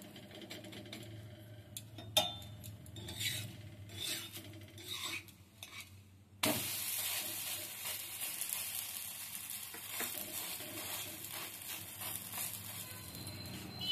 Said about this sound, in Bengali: এভাবে ধারগুলো একটু চেপে চেপে ভেজে নিতে হবে।